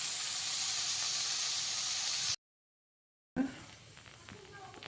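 Soybean chunks fry in hot oil with a loud, steady sizzling hiss that cuts out briefly, then returns as a quieter crackle with a little clatter.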